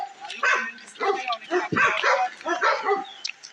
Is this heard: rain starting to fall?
no